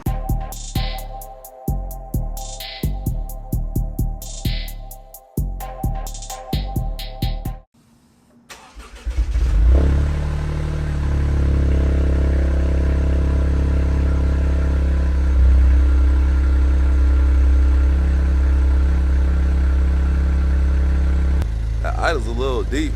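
Toyota GR Corolla starting and settling into a steady, deep idle with a low exhaust rumble, fairly close and not loud, following earlier talk and rhythmic music, with a slight rev near the end.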